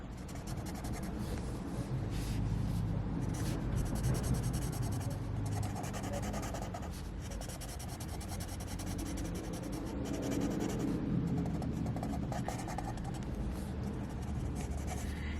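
Luminance colored pencils rub and scratch across paper as someone colors, a continuous close, soft scraping with small bursts of faster strokes and no talk.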